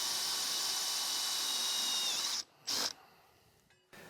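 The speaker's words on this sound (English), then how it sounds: "I'll use a handheld cordless drill with a 1/4-inch TTP Hard Drill bit installed." A handheld cordless drill with a 1/4-inch TTP Hard bit whines loudly and steadily through a hard metal washer, then cuts off, gives a brief second burst and winds down with mechanical rattling.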